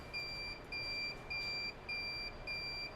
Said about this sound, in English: Why is it beeping like that?